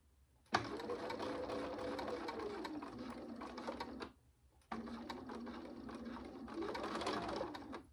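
Sewing machine stitching across a drawstring bag runs steadily and close, a dense whirring buzz that stops briefly for a pause before starting up again for another long stitching run.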